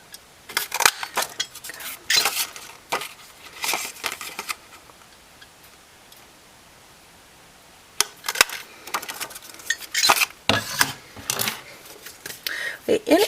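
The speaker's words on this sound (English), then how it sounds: "I'm using my 1 3/4 inch circle punch, and we'll just center that in there and punch that out" A 1 3/4 inch circle punch cuts a circle from paper during a stamping craft project, with a series of close, sharp clicks and rustling handling noises in bursts, separated by a quiet pause.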